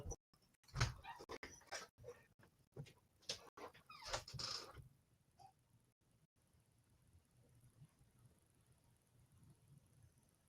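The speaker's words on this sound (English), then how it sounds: "Second dog wants to go out." A dog whimpers and shuffles near a door, wanting to go out: brief soft whines and scratchy clicks in the first half, then fading to quiet room tone, fairly faint and close.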